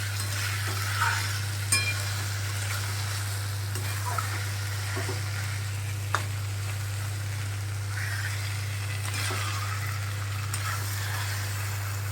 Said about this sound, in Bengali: বড়ি ভেজে একটু ছোটো ছোটো করে গুঁড়ো করে দিয়ে একটু গরম করে নিচ্ছি তরকারিটা